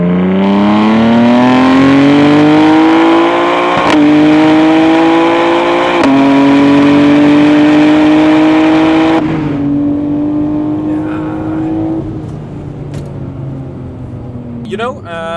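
A BMW M2 G87 with 530 horsepower accelerates hard, its exhaust a loud, close, rising drone that climbs steadily, with quick breaks at about three upshifts before it settles into a lower, steadier tone.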